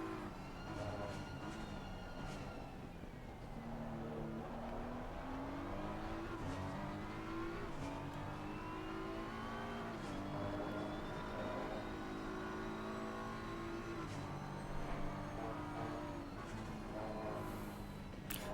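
Race car engine in a sim racing game during a four-hour endurance race at Circuit of the Americas: a continuous, steady engine drone whose pitch climbs through each gear and drops at every shift, with no voices.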